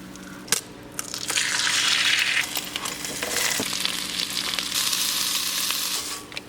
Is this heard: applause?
no